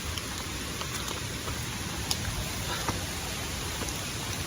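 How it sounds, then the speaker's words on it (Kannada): Steady rain falls on a trail toward waterfalls near Dharmasthala, a continuous dense hiss with occasional sharper drop taps, close and even throughout. "ಫುಲ್ ಮಳೆಯಲ್ಲೇ ನಡ್ಕೊಂಡು ಹೋಗ್ತಿರೋದು."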